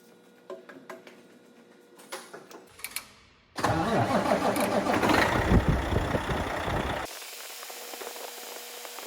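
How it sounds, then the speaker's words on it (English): A few clicks and a cranking starter, then a truck engine with a leaking, patched radiator hose catches and roars loudly before settling into a quieter, steady idle. "fire up the truck and see if it leaks"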